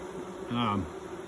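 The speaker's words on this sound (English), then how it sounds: "Right now the bees are just acclimating." A short burst of honeybee buzzing swells and fades over steady background hum, newly installed bees droning briefly close by at a hive in Wisconsin.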